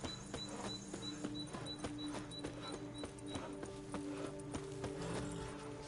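Roach, a horse in Witcher 3, gallops with rapid, rhythmic hoof clip-clops over a steady game soundscape, continuous and fairly close, with no voices.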